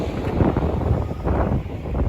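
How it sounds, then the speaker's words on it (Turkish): Gusty cold wind buffets the microphone, a rough low rumble that swells and dips without pause and no voices. "Bu rüzgar bu soğukta."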